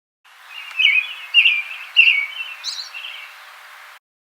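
A robin chirping: a few bright, close chirps and short warbling notes over several seconds, rising and falling in loudness, with quiet gaps before and after.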